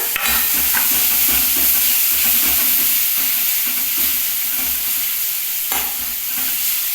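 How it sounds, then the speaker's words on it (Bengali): Chopped onion with garlic and ginger fries in a hot pan, a steady loud sizzle broken by repeated stirring scrapes from a spoon; no one speaks. "কষাতে ভাজবো তার সাথে আমি রসুন আদাটাও দিয়ে দিচ্ছি"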